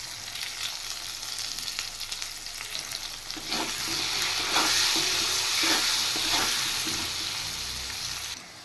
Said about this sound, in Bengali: এবার পরিমাণ মতো নুন আর হলুদ দিয়ে একটু ভেজে নেব।